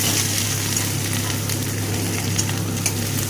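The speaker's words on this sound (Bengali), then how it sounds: "এবার দিয়ে দেব বেটে রাখা আদাটাকে দিয়ে একসাথে ভালো করে কষিয়ে নেব মশলার সাথে" Ground ginger paste fries loudly with garlic and spices in a pan, giving a dense, continuous close sizzle with stirring scrapes and a steady low hum underneath.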